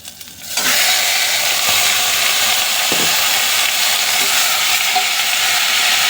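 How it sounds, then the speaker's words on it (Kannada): Mutton drops into green gravy masala frying in oil, setting off a loud, steady sizzle that starts abruptly and continues without a break, with faint stirring clinks underneath. "ಈಗ ನಾವು ಮಟನ್ ಹಾಕ್ಕೊಬಿಡೋಣ."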